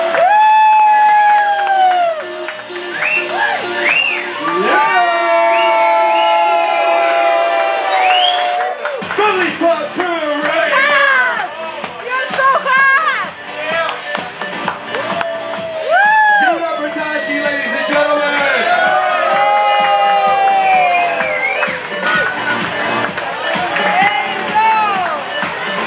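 Loud crowd at a Halloween bikini contest in a pub, whooping, cheering and shouting continuously with applause mixed in, an announcer's voice and music running underneath throughout.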